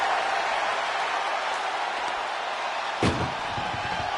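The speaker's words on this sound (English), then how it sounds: "And they can slam this door shut." An ambulance door slams shut in a WWE 2K25 wrestling match, a single sharp loud bang about three quarters through, set over a steady roar of arena crowd noise.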